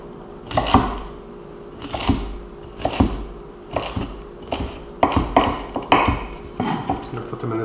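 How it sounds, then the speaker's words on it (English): A knife chops kale stems finely on a cutting board, giving sharp, close knocks in an uneven rhythm of roughly a dozen strikes, some falling in quick pairs. "So I got my stems here. Just gonna cut them up really fine."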